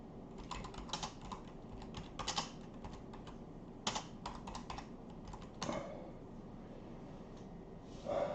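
Fingers type on a computer keyboard in bursts of rapid clicking keystrokes, close and distinct, with brief pauses and a few louder key hits, and no talking.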